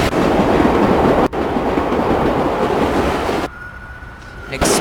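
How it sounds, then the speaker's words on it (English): Subway express train running through a tunnel in the World of Subways 4 simulator, a loud continuous rumbling roar that drops briefly, then thins out near the end. "And express trains rule."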